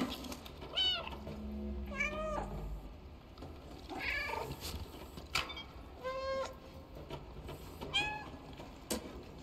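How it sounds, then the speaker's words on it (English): A cat meowing in the video game Stray, several distinct rising meows spaced a couple of seconds apart over soft game ambience and faint mechanical creaks. "I can meow here."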